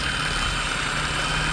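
A drill turns the oil pump of a 1972 Yamaha Autolube system mounted on the engine, giving a steady, continuous mechanical whir with a low hum underneath, close and fairly loud, with no talking.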